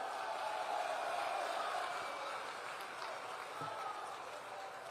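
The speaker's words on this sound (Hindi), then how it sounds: "अरुण जी के लिए जोर से ताली बजाओ जरा" Crowd at an outdoor political rally in Jamalpur, West Bengal, applauding for a candidate, a steady, dense wash of distant clapping and crowd noise that holds evenly throughout.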